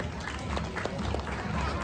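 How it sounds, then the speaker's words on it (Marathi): A crowd claps steadily for two women at a Ganpati-season Home Minister game show, a dense, even wash of applause that holds for a couple of seconds. "द्या अभिनंदन जरा जोरदार टाळ्या दोघी जणींसाठी"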